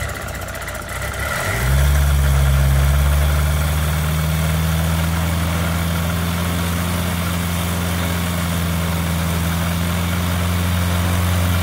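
A Kitfox light aircraft engine with a larger exhaust starts up and settles into a deep, steady idle, loud and close with a strong low rumble and no voices.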